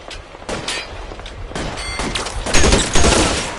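A close, loud fusillade of shots in the L.A. Noire video game, several rapid overlapping bangs building toward heavier blasts at the end.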